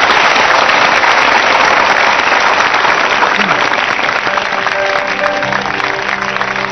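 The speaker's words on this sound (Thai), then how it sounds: "ขอเสียงปรบมือให้กับเพลง" A crowd applauds a song on a Thai stage show, dense steady clapping filling the air, with a tune starting faintly beneath toward the end.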